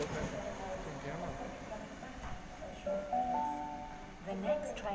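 Sydney Tangara train arriving at Ashfield station platform, a rumbling approach with tonal squeals and brake whines rising and falling, with chatter and a platform announcement over it.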